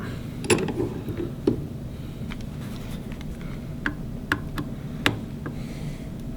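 Parts of a Firing Line CTMR rifle being taken apart give off scattered light clicks and metallic ticks close by, spaced irregularly over a steady low background hum, with no talking.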